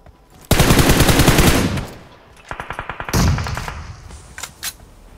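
Video game gunfire comes in loud, close bursts of rapid automatic shots, then a quieter rattling volley and a few scattered single shots.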